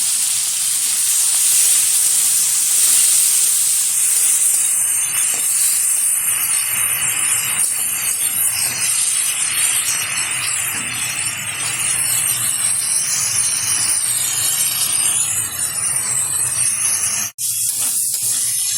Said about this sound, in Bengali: চিংড়ি মাছগুলো ভালোভাবে ভাজা হয়ে গেছে